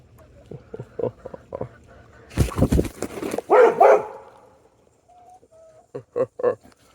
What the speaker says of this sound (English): Just have to grab that chicken.